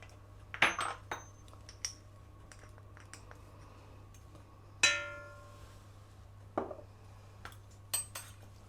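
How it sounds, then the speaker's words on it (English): A bowl clanks sharply several times as salt is stirred into flour for a traditional Christmas cake, with ringing metallic knocks spaced out against a low steady hum in a quiet kitchen. "Clanking about. Just mixing the salt into the flour"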